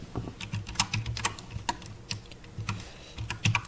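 Rapid, irregular clacking of keys on a computer keyboard, close and clear, with quick bursts of keystrokes and brief pauses, no voices present.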